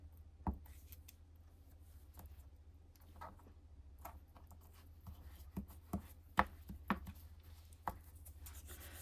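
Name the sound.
cutting paper with scissors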